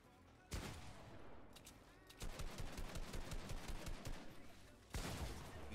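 Fortnite gunfire in a fast battle royale fight, with rapid repeated shots and bursts running almost nonstop, punctuated by sharper loud blasts at the start and near the end, fairly faint overall.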